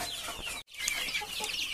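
Several chickens cluck and chatter together continuously at moderate distance, with one brief pause in the middle.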